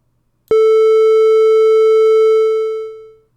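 A modular synthesizer oscillator sounds one loud, pure steady tone that starts abruptly, holds for about two seconds, then fades out smoothly, heard alone.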